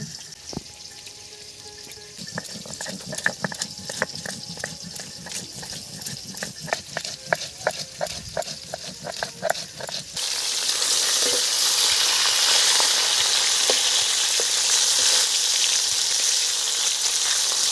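Rohu fish pieces frying in hot oil for a fish curry, a crackling sizzle with sharp pops and spatters that swells into a loud, dense, continuous hiss partway through, no talking.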